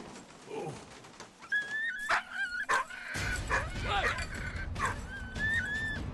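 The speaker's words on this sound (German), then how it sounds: "Ah, das Hundle." A dog whimpers and yips in Valiant Hearts: The Great War, a World War I adventure game, with several short high whines and barks spread over game ambience and background noise.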